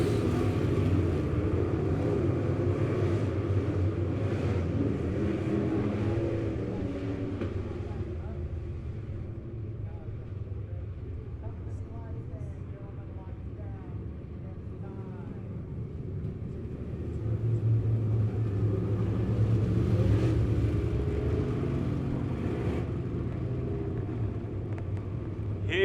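Dirt late model race cars warming up their tires on the track at Lebanon Midway Speedway before a feature race: a steady low engine rumble from several cars that dips midway and swells louder again near the end.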